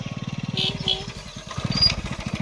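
A new motorcycle pulls up nearby in a village, its engine throbbing in a fast, even low pulse that briefly dips and then rises again, with faint voices in the background.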